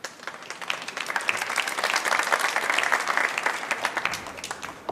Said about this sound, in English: the fans clapping for the appreciation, not only at the attempt